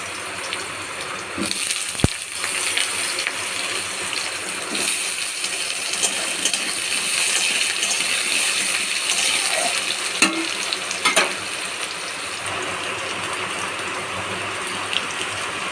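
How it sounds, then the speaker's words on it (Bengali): Cubed potatoes fry in hot mustard oil in a kadai, giving a continuous hissing sizzle with a few sharp clatters near the start and middle, no voices. "তেল গরম হয়ে গেছে এই যে চৌকো চৌকো করে আলু দিয়েছি আলুগুলো ভেজে নেবো"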